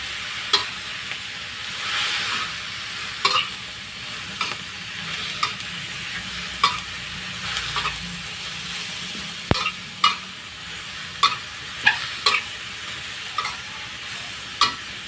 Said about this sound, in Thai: พอหมูสุกแล้วก็ใส่แนงกระหล่ำลงไปได้จ้า พัดแนงกระหล่ำให้สุกจ้ะ